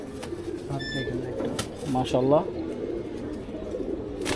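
A breeder pigeon coos close by in a loft, a few throaty rolling coos that rise and fall under people talking.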